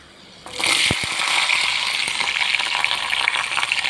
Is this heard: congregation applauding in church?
no